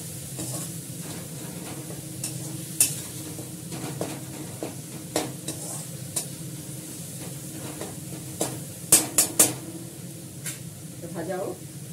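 Onions frying in oil in a pan, a continuous low sizzle broken by sharp clicks and scrapes of stirring, with a person talking over the cooking.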